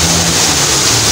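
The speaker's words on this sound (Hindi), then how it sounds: "कराची में तेज़ तरीन बारिश," A brief, loud wash of dense hissing noise from a heavy downpour in Karachi, Pakistan, pouring down steadily.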